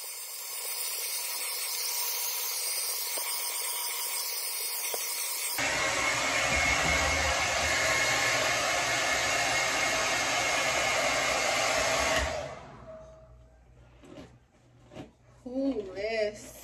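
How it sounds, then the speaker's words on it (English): A hair dryer roars loudly as hair is blow dried, holding a steady airy whoosh that shifts to a higher setting partway through, then cuts off. A voice follows briefly afterward. "blow dry"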